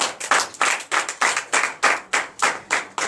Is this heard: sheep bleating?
no